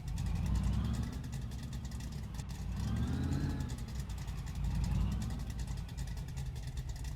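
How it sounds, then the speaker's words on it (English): A barn-find buggy engine runs through its new exhaust, a close low rumble that swells and eases in slow waves with a faint whine above. "I hope you guys enjoy the exhaust."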